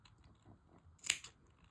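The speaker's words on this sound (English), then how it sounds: "Now go ahead and snip, especially the neck part." Scissors make a single crisp snip through the fabric of a sewn bunny at the neck, close and short, set against a quiet room with faint handling rustles and no speech.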